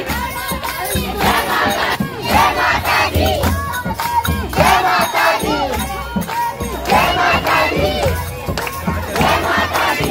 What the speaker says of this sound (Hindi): और देखिए लोगों की भीड़।